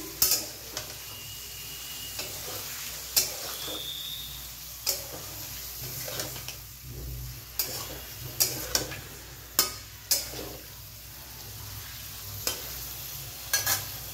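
Cauliflower and potato frying in a pan, a steady sizzle of oil running throughout with occasional sharp clinks and scrapes of a utensil stirring, close and moderately loud, with no talking.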